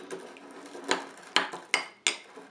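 A spoon stirs homemade pesto in a bowl. A few soft scrapes lead into four sharp, close knocks against the bowl at uneven intervals.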